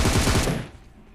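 Loud, rapid automatic gunfire from the video game PUBG Mobile, a quick burst of closely spaced shots that cuts off and fades within about a second.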